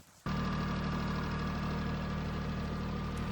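A tractor engine on a horse farm starts up abruptly and then idles steadily and loudly up close, a constant low rumble with a faint knocking pulse and no talking.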